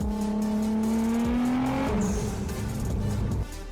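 A Nissan R35 GT-R with a wide-body kit and carbon fiber hood revs loudly nearby, the engine note climbing and then cut by a hissing turbo blow-off valve release.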